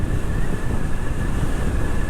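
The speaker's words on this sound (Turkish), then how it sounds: "Hava rüzgarlı." Loud, continuous wind rumble buffeting the microphone while riding a PCX-style scooter on a windy day, with a faint steady whine underneath, no voices.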